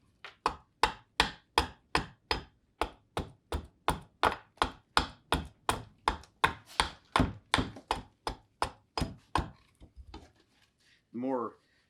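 A green wood, heart-shaped bowl is carved with an edge tool, producing a steady close run of about two dozen crisp cutting strikes at an even rhythm, ending in a short vocal sound.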